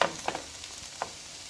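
Chopped onion and green pepper sautéing in a pan give off a soft, steady sizzle broken by a few light scrapes and taps of a utensil, close and fairly quiet, with no voices.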